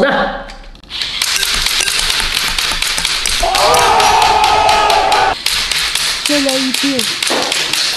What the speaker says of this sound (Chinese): 把轻机枪到底能不能电动连发